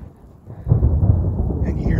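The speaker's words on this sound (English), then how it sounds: "And you hear thunder." Low, rolling thunder rumbles through an old cemetery, starting soft and swelling to a sustained heavy roll that persists to the end, with faint rain possible beneath it.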